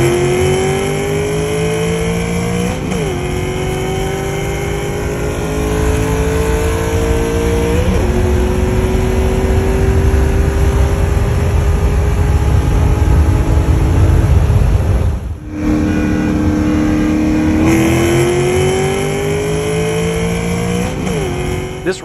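A modified 4.6 V8 car races a 10-speed Mustang from a rolling start, loud and close in the cabin. The engine revs climb steadily, with several distinct upshifts breaking the rising drone.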